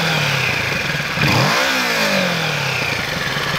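From a little distance, a Kawasaki Z650 motorcycle with an aftermarket exhaust blips once, rising and dropping in pitch, then returns to a steady rumbling idle.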